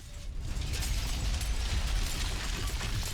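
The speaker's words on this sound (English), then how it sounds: "Explosion, green screen effect" An explosion effect in the Batman: Dark Tomorrow video game comes through as a dense, loud roaring rumble that holds steady for about three seconds with heavy low-end, no voices over it.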